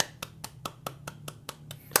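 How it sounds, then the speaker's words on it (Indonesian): Hands clap in a steady, evenly spaced rhythm, about nine quiet claps over a low background hum, with a sharper clap at the end. "Mari tepuk tangan dulu."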